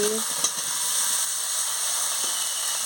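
Fried potato and pointed gourd dropped into a pan of sizzling spice paste, a steady close frying hiss with a brief clatter near the start and faint stirring, no talking.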